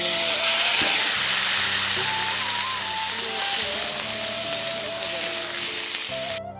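Potatoes and tomatoes fry in a pan, a loud, steady sizzle and hiss throughout, close up with faint stirring scrapes.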